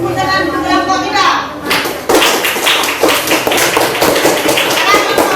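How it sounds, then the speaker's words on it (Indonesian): A classroom of children claps for a group presentation, with rhythmic, close, rapid clapping that starts partway through and continues to the end, after a stretch of talking voices. "Tepuk tangan untuk kelompok 3."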